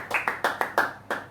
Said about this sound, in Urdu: زوردار تالی بجائیں گے خدا کے کلام کے لیے